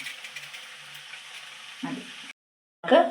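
Raw green plantain slices dipped in batter sizzle as they drop into hot oil for Kerala kaya bajji, a steady close crackle broken by a soft splash, a brief silence, then a louder burst of frying.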